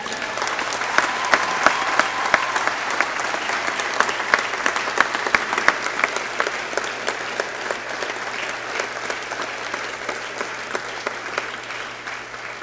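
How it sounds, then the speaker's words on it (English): Sustained applause from a large audience at a university convocation ceremony, steady dense clapping with sharp individual claps standing out, continuing for over twelve seconds without speech. "Ladies and gentlemen, you may now erupt into spontaneous applause."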